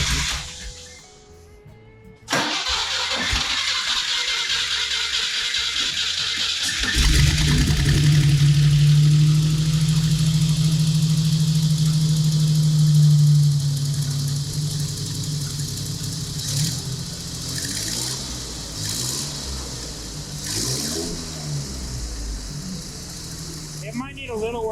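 A 1969 Jeep CJ5 with a Dauntless engine cranks after a short quiet moment, catches and settles into a loud, slightly uneven idle with a steady low drone, while people talk nearby through parts of it.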